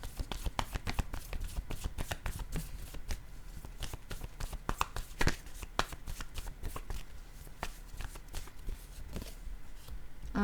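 Tarot-style playing cards are handled and laid down during a French card reading, giving a run of quiet, sharp flicks and soft slaps in quick irregular succession, close to the microphone.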